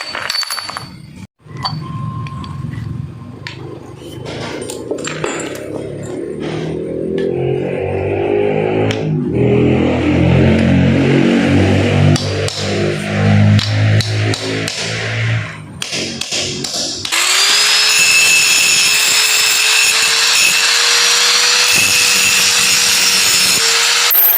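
Loud, continuous grinding and rasping of an angle grinder against the metal tip of a brush cutter handle, steady and close, ending in a sustained high-pitched whine from the spinning tool.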